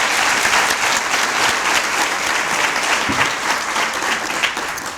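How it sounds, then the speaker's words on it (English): Sustained applause from a sizable crowd at a law moot court competition, dense steady clapping throughout that begins to taper slightly at the end. "Another round of applause"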